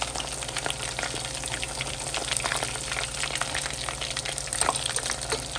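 Crispy barbecue chicken frying in oil, a dense, steady sizzle with frequent small pops and crackles and an occasional louder burst, heard close with no talking.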